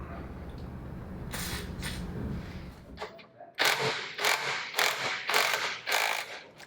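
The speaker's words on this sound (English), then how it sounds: "I'm just going to put a puller into these threaded holes and we'll pop it off" A puller works a part off a Mercury 9.8 hp outboard crankshaft, first a muffled grinding, then a run of sharp metallic ratcheting clicks in an uneven rhythm, close by.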